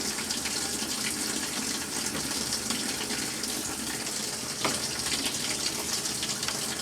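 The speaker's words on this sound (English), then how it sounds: "At this point, do a test wash. Run through the whole cycle." An outdoor washing machine hooked to a garden hose runs a test wash cycle, producing a steady, loud rush of water filling and gushing, continuous and close without pause.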